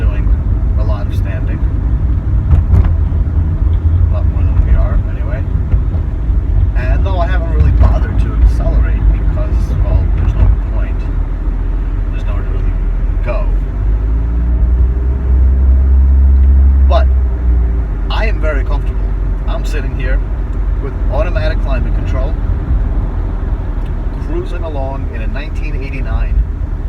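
A 1989 Nissan 180SX RS13 drives at night, its steady engine drone and road rumble holding loud and constant throughout, with a speaking voice over it and brief clicks and knocks from inside the car.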